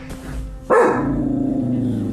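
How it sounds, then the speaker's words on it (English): A dog barks once sharply and loudly into the darkness at night, then growls and whines on a sustained low note, heard close to the recorder with no talk. "footage begins abruptly with her dog barking into the darkness"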